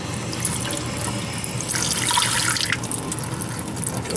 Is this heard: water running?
yes